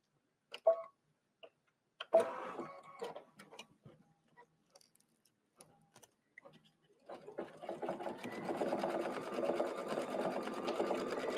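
An embroidery machine stitches an in-the-hoop lip envelope. A few scattered handling clicks and taps come first, then a rapid, even mechanical stitching chatter builds and runs steadily close by.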